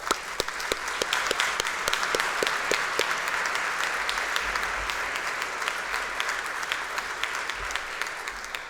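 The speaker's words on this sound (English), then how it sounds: "please give the award recipients one more round of applause" A sustained round of audience applause for award recipients at an honors convocation, a dense, even crowd of clapping with a few sharp individual claps standing out near the front.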